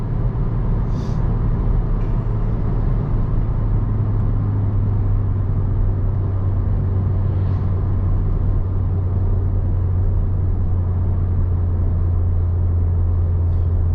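Renault Clio 4 RS Trophy engine droning steadily at high revs, a loud continuous low-pitched roar with no clear pauses for gear changes, heard alone.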